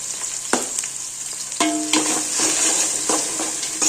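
Onions fry in a pan for mutton biryani, a steady close sizzle punctuated by a few sharp metallic clinks and scrapes of stirring, with the hiss swelling louder partway through.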